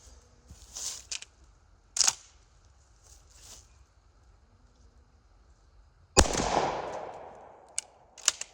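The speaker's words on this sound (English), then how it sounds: "We're going to shoot at that same pattern board and go take a look at it" Shotgun loaded with reloaded shells fired at a pattern board outdoors, one sharp loud blast followed by a long rumbling echo, with a few faint clicks and handling knocks before and after.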